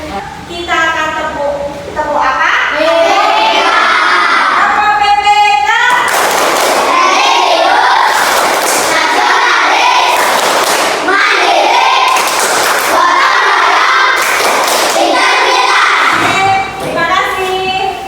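Fifth-grade schoolchildren in a classroom perform the rhythmic PPK clapping chant, singing in unison with a teacher's voice leading at first, then loud patterned bursts of claps alternating with chanted lines, close and energetic.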